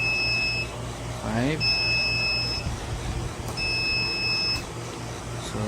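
A pisonet coin-operated computer timer emits warning beeps before auto shutdown, three evenly spaced electronic tones about a second each, with a person speaking in between.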